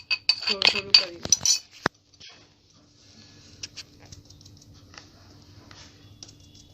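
A spatula clinks and taps sharply against a bowl while eggless chocolate cake batter is cut and folded. The clinks give way to a quieter, soft scraping and mixing texture.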